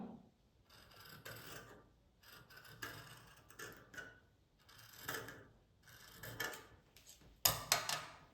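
Scissors cut around the neckline of fabric for a small child's dress, giving soft, close rasping snips in repeated short strokes with brief pauses between them.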